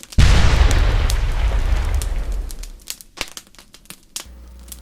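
A single loud explosion booms close up and rolls into a long crackling, rumbling decay, followed by scattered debris-like pops and clatter as it fades.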